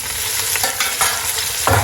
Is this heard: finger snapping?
no